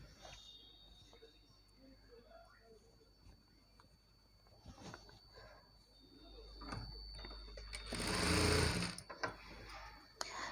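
A sewing machine top stitches a Punjabi dress pant, its ticking mechanical whir running steadily at close range and swelling louder near the end, with soft background noise.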